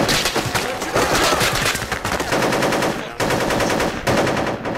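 A PPSh submachine gun rattles in long, rapid automatic bursts in Project Reality, loud and close, with short breaks between the sustained volleys.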